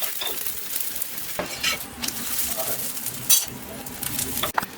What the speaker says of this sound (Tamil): இப்போ நல்லா ஆயில் ஊற்றி வேக வச்சுக்கலாம்.